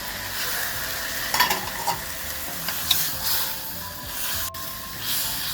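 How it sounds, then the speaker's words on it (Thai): Minced pork stir-frying in a hot iron wok: a steady, close sizzle and hiss runs throughout, with a few scraping clacks of a spatula stirring the meat. "รวนให้หมูสุกก่อนนะครับ"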